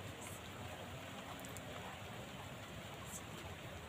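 Soft, steady rainfall, a faint continuous hiss of drops with no distinct pattern, quiet and distant throughout.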